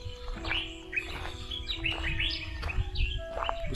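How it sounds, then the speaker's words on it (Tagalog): Birds chirp and tweet in quick repeated calls nearby at 5 AM in Africa, over a low background hum, with no one talking. "So nadidinig nyo yun, yung huni ng mga ibon."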